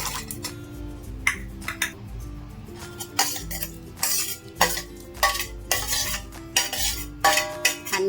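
Pieces of black grape, apple and guava are stirred together in a bowl, with repeated close clinks and scrapes of a utensil against the dish coming in irregular bursts.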